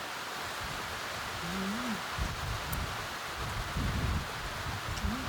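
Steady rain falls outdoors with low rumbling underneath that suggests distant thunder, a broad even hiss running the whole stretch with a few deeper swells and no talk.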